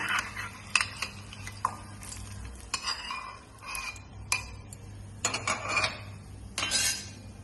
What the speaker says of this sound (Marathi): आता हे शेंगदाणे आपण परतून घेऊ